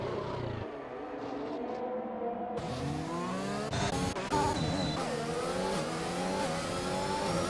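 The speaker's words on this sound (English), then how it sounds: "Car sounds like it's a little bit down on power as well" A race car engine in a racing video game at Monaco whines loud and high-pitched through a series of rapid upshifts and downshifts, the pitch sweeping up and down continuously, with the car sounding a little down on power.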